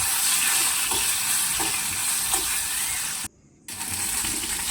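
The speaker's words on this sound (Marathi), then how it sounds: "त्याच्यानंतर जिरे मोहरी टाकायचं व ठेचलेला लसूण" Cumin, mustard seeds and crushed garlic sauté in hot oil, giving a loud, steady sizzle with a few faint spoon taps. The sound drops out briefly near the end and then resumes, with no speech.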